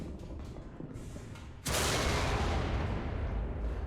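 A Type-60 SPRG recoilless gun fires in War Thunder simulator battles: one sudden loud blast after quiet engine rumble, followed by a sustained roaring wash of noise that slowly fades.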